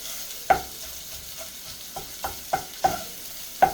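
Food frying in a pan on a stove top, a soft steady sizzle broken by six sharp scraping stirs at irregular intervals, close and clear with no voices.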